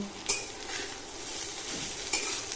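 Grated carrots fry in ghee in a kadai for carrot halwa, giving a steady close hiss and sizzle with a few sharp spoon-on-pan scrapes as the mixture is stirred.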